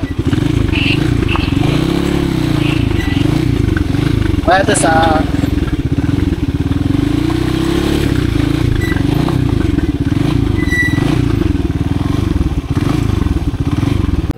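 A motorcycle runs steadily throughout on a ride to a farm entrance in Quezon, its engine loud and constant, with people talking over it and a brief clatter midway.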